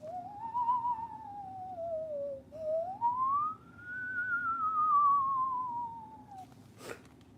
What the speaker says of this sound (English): Sound like a Halloween decoration, like a spooky whistle.